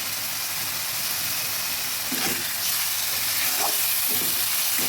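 Onions fry in hot oil for a boal fish curry, giving a steady broadband sizzle and hiss with a few faint stirring clinks. No one speaks over it.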